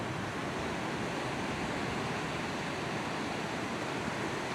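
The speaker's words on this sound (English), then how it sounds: "Close your eyes and listen to the ocean." Ocean waves wash onto a beach in a steady, full hiss of surf, continuous and fairly close with no voices over it.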